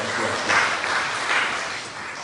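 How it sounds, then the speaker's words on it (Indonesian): A church congregation at a Sunday Christmas service claps together in a steady, dense wash of applause that runs throughout, fairly close and moderately loud. "Beri tepuk tangan dulu yang baik."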